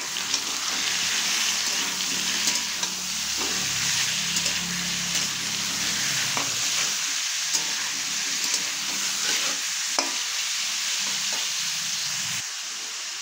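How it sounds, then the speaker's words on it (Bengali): Minced chicken fries with potato and carrot in a pan over a low to medium gas flame, giving a steady close sizzle with intermittent clinks and scrapes of stirring. "এবার এর মধ্যে আমি দিয়ে দিচ্ছি কিমাটা দিয়ে আরও কিছুক্ষণ এইভাবে একটু ভেজে নিতে হবে।"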